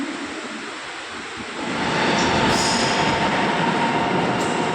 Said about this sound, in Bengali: এই যে পাশাপাশি পিছনে আরেকটা মেট্রো চলে গেল, এই যে সাইড দিয়ে